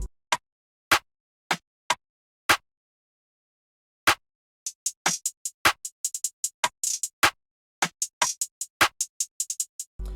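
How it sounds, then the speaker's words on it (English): A party rim layered with a grass rim, percussion samples in an FL Studio beat: sparse, crisp clicking hits at first, then a denser, quicker syncopated pattern of sharp ticks with no voices. "I layered the party rim"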